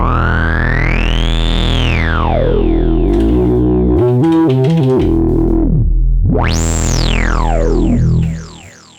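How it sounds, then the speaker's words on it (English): Elektron Syntakt analog effect block driving a synth tone into gritty, distorted overdrive, with loud sweeping filtered notes, a choppy stuttering burst midway, and a final bright sweep that drops out at the end. "this thing can sound pretty gritty and distorted in a way that I don't think that the Digitone can quite approach"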